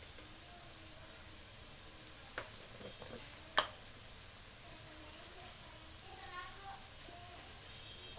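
Garlic and chili powder fry in a pan in a soft, steady sizzle, with a few sharp clicks of a utensil against the pan.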